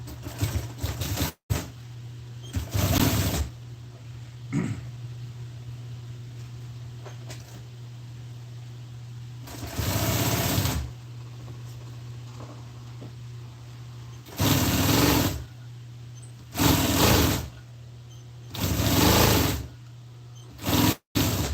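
Sewing machine stitching upholstery fabric for a seat, running in several bursts of a second or two each, with a steady hum and quiet pauses between them.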